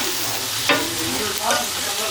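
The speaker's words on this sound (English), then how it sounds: "we're just gonna go ahead and mix everything all together" Rajas con queso being stirred in a pan with chicken bouillon mixed in, a continuous sizzle with two brief scraping strokes.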